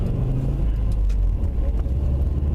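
A turbocharged Subaru car pulls hard with a deep, loud engine rumble throughout, heard close from inside the vehicle with no talk.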